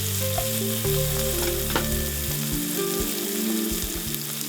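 Mushrooms fry in a couple of tablespoons of oil, giving a close, steady sizzle with a few scraping stirs and a low hum underneath, and nobody speaks.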